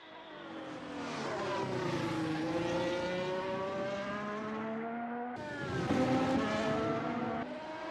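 A race car in a racing video game engine whines steadily at high pitch while entering the pit lane, its tone sliding down and then jumping back up near the end, loud and continuous with no talk.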